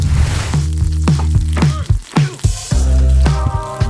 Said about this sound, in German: Daraufhin lassen wir 2 Esslöffel Butter in der heißen Pfanne zerlassen